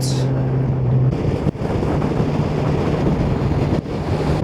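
Strong wind buffets a motorcycle riding over mountain roads in Norway, a steady loud rush of roaring wind noise that fills the whole stretch, with a low engine drone under it.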